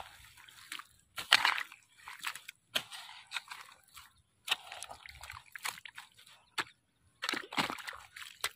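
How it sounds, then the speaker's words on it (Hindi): Irrigation water runs through a freshly opened earthen bund in a farm field, heard as close, irregular sloshing and splashing bursts separated by brief quiet gaps. "पानी जाने लगा"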